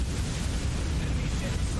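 Torpedo explosion in Warship Gunner 2, a heavy, rumbling naval blast that fills the short moment with a dense, roaring low boom and washing noise, loud and sustained.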